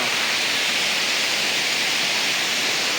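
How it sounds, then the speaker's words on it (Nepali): A Himalayan waterfall on the Annapurna Base Camp trek in April pours with a steady, dense rushing hiss, close and loud, unbroken from start to finish. "यहाँ चाहिँ यस्तो बबाल झरना"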